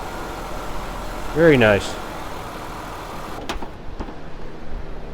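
A Ford Escape engine with a P1506 high-idle fault idles steadily and close, a low constant hum that settles lower partway through. Someone speaks briefly over it.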